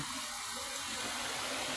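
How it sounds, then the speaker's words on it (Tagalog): Water runs steadily through a garden hose left outdoors during days of continuous rain, a soft, even trickle and rush that holds at a constant, moderate level with no talking. "Hindi pa naman ganun kalakas yung agos ng tubig mga guys."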